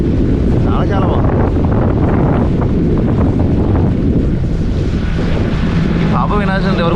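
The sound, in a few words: wind blowing at Udupi beach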